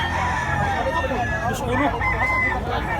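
A young stag rooster crows briefly, fairly close, with a voice talking over it.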